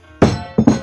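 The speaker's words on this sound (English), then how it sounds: "That hammer and a feather, you could say, all at the same speed." A hammer and a feather dropped together land with a couple of close, sharp knocks, a first thud followed by a quick double impact a moment later.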